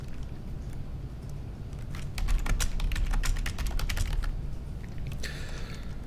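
Java code is typed on a computer keyboard in a fast, close burst of clicking keystrokes that rises to a dense run in the middle and then thins to sparse taps over low room hum.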